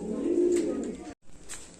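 A pigeon at a home loft for fancy breeds gives a low, steady, close coo that breaks off briefly and then resumes more softly.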